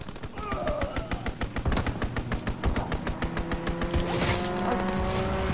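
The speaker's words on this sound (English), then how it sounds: "Strafing run inbound!" A strafing run in Call of Duty WWII: fast, rhythmic machine-gun fire rattles in quick regular bursts, loud and close, with engine roar and other battle noise rising toward the end.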